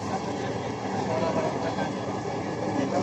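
A Dhaka metro rail train runs toward Uttara North with a steady, close, even rumble and hiss of the carriage in motion, with faint voices mixed in.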